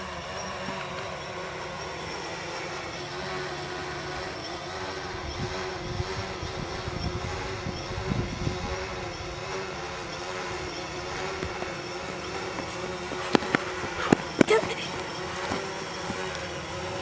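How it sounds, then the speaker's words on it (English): A small camera drone hovers and flies just after takeoff outdoors, its steady whirring drone continuous and moderately faint throughout, with a few sharp clicks and bumps near the end. "I'm turning on the drone, turning this on."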